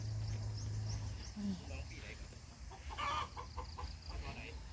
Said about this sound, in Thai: เล้าไก่ค่ะ เลี้ยงไก่ด้วยนะคะ